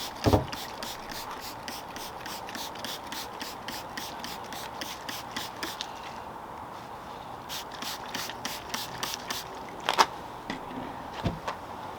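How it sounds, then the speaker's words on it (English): Short bursts of detailing spray hit polished car paint after polishing, a run of quick hissing pumps repeated in steady rhythm, close and fairly loud, with a brief pause midway and no talk. "I'm going to go over it with car spray razor now, just to get rid of any"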